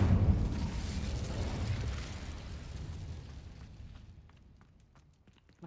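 A fire spell cast in the video game Hogwarts Legacy gives a loud, rumbling whoosh of flame that bursts at the start, then fades over several seconds into quiet, with faint clicks near the end.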